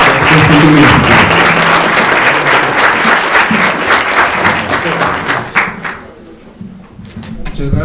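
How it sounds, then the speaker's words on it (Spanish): Loud, dense applause from a forum audience at a university event welcoming a speaker fills the room, then thins into scattered claps and fades near the end. "Damos un aplauso y la bienvenida al doctor Carlos Ramiro Ruiz Moreno"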